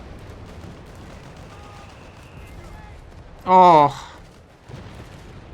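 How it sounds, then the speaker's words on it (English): Mortar shells landing in the Company of Heroes 3 strategy game, one loud sudden burst with a brief ringing tail standing out over a low quiet battlefield bed, with a short spoken exclamation nearby. "the mortars are coming in hot and heavy"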